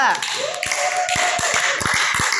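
A group claps in scattered, uneven applause that fills the room, while a voice talks over it.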